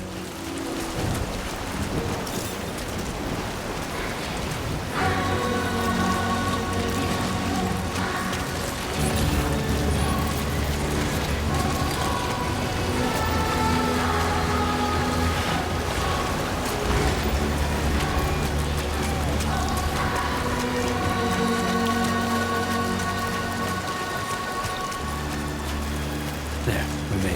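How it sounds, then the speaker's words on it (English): Rain pours continuously through a Death Stranding 2 video game cutscene, a dense steady hiss beneath swelling orchestral music and occasional low rumbles, with no clear talking. "Rain."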